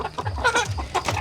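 Chickens clucking at a poultry farm with ready-to-lay birds: a quick, busy run of close, overlapping clucks and squawks from several hens.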